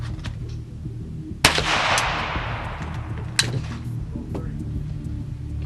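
Pellets are fired using .22 nail gun power load blanks at the yellow power level: two sharp, loud reports about two seconds apart over low background noise.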